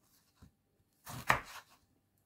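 A knife cuts a pear into pieces, with one light tap and then a single longer, louder slicing stroke, close and quiet, and no talking.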